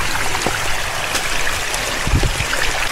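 Mountain stream water flowing steadily near the Seri Perigi waterfall on a hiking trail at the foot of the hills, a constant close rushing wash with a few gurgles and no talking.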